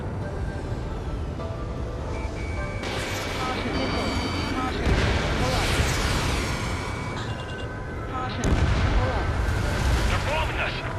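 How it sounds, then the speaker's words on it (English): Bombing explosions in the Ace Combat 7 video game rumble and thud repeatedly in heavy, continuous battle noise, with sustained roaring blasts and radio chatter voices in the background. "They're bombing us."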